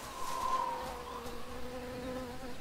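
Insect buzzing from a bee in the Tales of Monkey Island video game hums throughout, strongest at the start and then settling into a steady, even drone.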